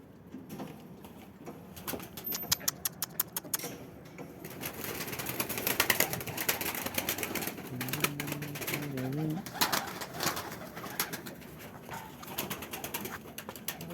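Pigeons coo softly amid a busy, rapid clattering of wings and clicks, with faint background murmur throughout.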